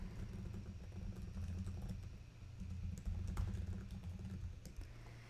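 Steady typing on a computer keyboard while writing a comment, quiet rapid key clicks running continuously over a low background hum, with no talking.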